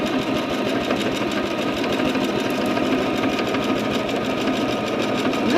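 A Singer One sewing machine stitches continuously during free motion quilting, a fast, even mechanical chatter held close and steady throughout with no voices.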